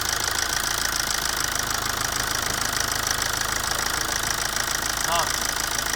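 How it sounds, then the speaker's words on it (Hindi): A car engine idles steadily in a workshop with the air-conditioning compressor switched on, giving a close, constant, slightly knocking hum with a brief chirp near the end. "अब गाड़ी चला के कंप्रेसर चालू करो।"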